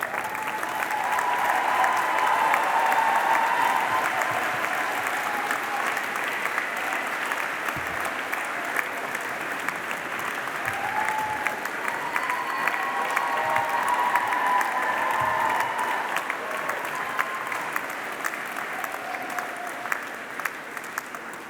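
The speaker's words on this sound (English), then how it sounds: "thank everyone at the back of the hall with a round of applause" Sustained applause from a large audience fills a graduation ceremony hall, dense steady clapping that swells and holds for about twenty seconds, loud and close without a break.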